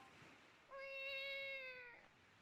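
A person imitates a cat with a single drawn-out, mewing meow that rises and holds for over a second, close and fairly clear against a quiet background.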